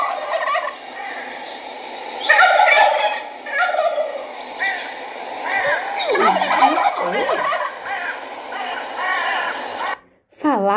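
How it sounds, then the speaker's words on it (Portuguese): Turkeys gobbling in loud, close, rapid warbling bursts that repeat for about ten seconds before a brief drop-out near the end. "O Pato Poliglota era capaz de conversar com os perus em gluglu com rara perfeição"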